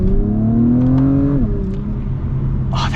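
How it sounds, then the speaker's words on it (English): A 2021 Acura TLX Type S AWD pulls hard from inside the car, its exhaust note climbing steadily in pitch before an upshift drops it, then droning on at a loud, even level. "That is such a good sounding exhaust."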